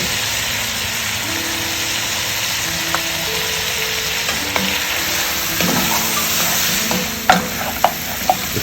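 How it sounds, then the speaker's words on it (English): Meat frying in a pan as haleem masala is stirred in, a constant sizzle with scraping stir clatters growing sharper toward the end, close and without talk. "Now, since the meat has changed its color, let's add the Haleem masala to it."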